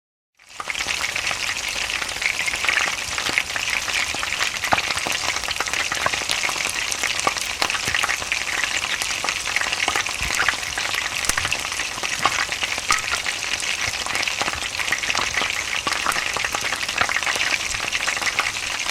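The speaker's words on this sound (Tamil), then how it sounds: "இப்போ சிக்கனை ஃப்ரை பண்ண ஆரம்பிச்சிடலாம்." Chicken wings for crispy hot wings fry in hot oil, a dense, steady crackling sizzle that holds loud and even for the whole stretch, with no voices over it.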